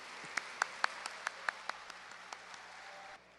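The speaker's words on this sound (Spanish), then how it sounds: "Le damos un aplauso de bienvenida" Sparse welcome applause for a lecturer on video game technology, a handful of distinct, fairly quiet claps from a small audience spaced across a few seconds.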